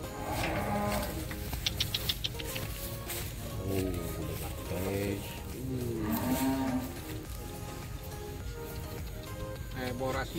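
Cattle in a pen lowing and mooing several times, moderately close, mixed with people talking and general barn commotion in the background.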